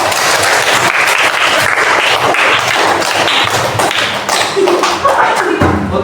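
Schoolchildren in a primary classroom clap their hands together, loud and close, an uneven rattle of many small hands with thumps and taps mixed in and some voices underneath.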